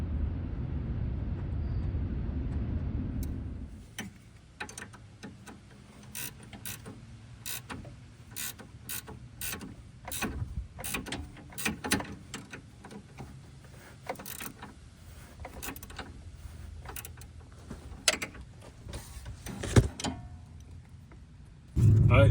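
Nut being hand-tightened onto a Nissan stabilizer bar link, a long series of small irregular metallic clicks and ticks close up after a steady low hum fades out.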